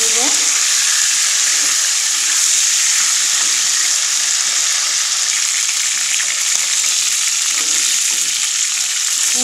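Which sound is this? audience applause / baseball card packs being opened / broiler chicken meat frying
broiler chicken meat frying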